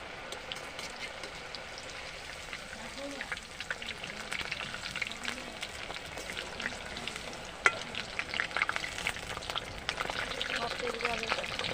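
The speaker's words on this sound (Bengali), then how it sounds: "একটা আর ওগুলো ভাজা হচ্ছে" Cabbage pakoras deep frying in hot oil, a steady bubbling fizz with scattered crisp pops that grow busier toward the end, moderately close and without speech.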